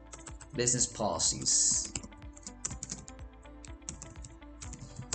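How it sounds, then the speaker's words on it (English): Rapid keystrokes clatter on a computer keyboard in irregular bursts while a person speaks quietly over the typing. "what you can do over here is just simply type business"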